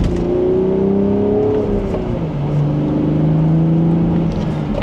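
A 2026 BMW Z4 M40i Final Edition manual convertible in Sport Plus accelerates in second gear, its engine note climbing and settling loud and close from inside the cabin, with no talking.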